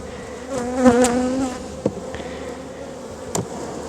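Honey bees buzz inside a crowded hive during a spell of rain and cold, a steady drone with a louder swell early on and a few sharp knocks from handling the frames.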